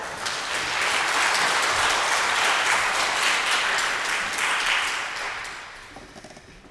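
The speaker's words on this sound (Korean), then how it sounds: "이왕 박수 쳐줄 것 크게 쳐줍시다" Sustained applause from a church congregation during a sermon, a dense wash of many hands clapping loudly for several seconds before thinning and tapering off at the end.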